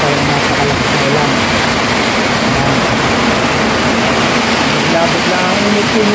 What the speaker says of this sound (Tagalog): nagagawin na tayo napakalakas na ulan